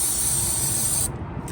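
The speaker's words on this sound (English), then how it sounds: "Give that a little bit of a spray." A spray bottle gives a brief, close, steady hissing burst lasting about a second in a truck cab, then cuts off abruptly.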